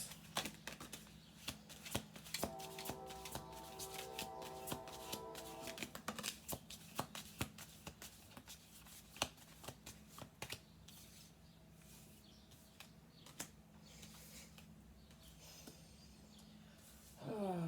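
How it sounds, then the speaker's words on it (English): Tarot cards shuffled by hand, repeated quick riffling and slapping bursts close by, irregular and fairly quiet, with a brief tonal sound in the background. "We're gonna do 2 more shuffle throws."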